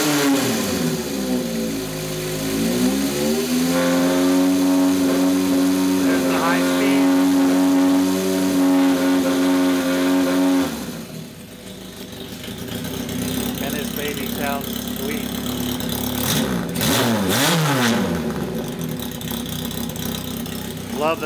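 Honda CB750 K0 Sandcast motorcycle with freshly set valves, timing and synced carbs, idling with a steady, loud, close engine drone, then rising and falling through a few revs, with someone speaking briefly.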